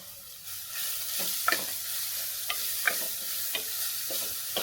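Grated beetroot sizzles in a hot pan for pachadi while a spoon stirs it, giving a steady soft frying hiss broken by several sharp scraping clinks of the utensil against the pan.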